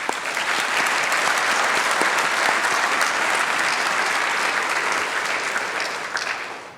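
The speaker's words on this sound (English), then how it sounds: "I would like to invite everyone to give you a round of applause" Sustained, dense applause from a large audience at a registered nursing pinning ceremony for graduates, steady and loud throughout before tapering slightly at the end.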